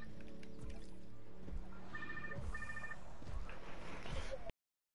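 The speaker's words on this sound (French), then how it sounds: "Donc, téléphone." Telephone ringing in the dinosaur park game Jurassic World Evolution 2, two short electronic ring bursts heard over a busy game ambience with low rumbling background sound.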